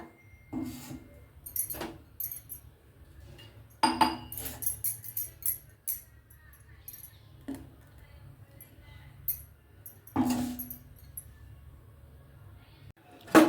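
Ground coconut and radish paste is transferred into a kitchen vessel, with sparse, quiet metallic clinks and scrapes of a spoon against the pot and a few louder knocks between pauses.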